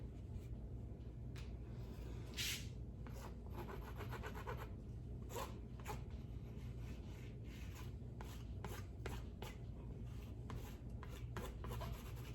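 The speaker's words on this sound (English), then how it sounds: "You scrub it in with your palette knives." Palette knives scrubbing paint onto a canvas for an abstract rose painting, a quiet, continuous scraping and rasping with irregular strokes throughout, close and faint, with no talk.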